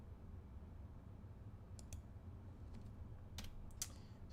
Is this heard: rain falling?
no